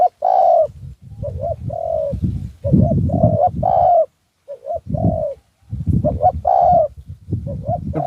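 A spotted dove coos close by in repeated soft, rhythmic phrases, a low throaty call with brief pauses between series.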